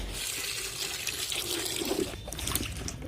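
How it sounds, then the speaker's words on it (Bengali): New potatoes being rinsed in water, steady splashing and trickling close by throughout, with brief swishes as the potatoes are moved around in the water; no speech. "ভালো করে ধুয়ে রাখতে হবে আর একবার জল দিয়ে।"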